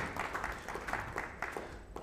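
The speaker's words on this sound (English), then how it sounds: "A round of applause for him." A conference audience gives a panelist a brief round of applause, a quick spatter of clapping that is fairly soft and recorded from some distance.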